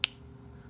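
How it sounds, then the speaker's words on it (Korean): A single crisp finger snap, close and sharp, followed by near silence. "타노스의 핑거 스냅으로"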